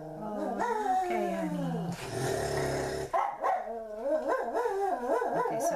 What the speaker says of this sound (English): we don't need to hear my dog barking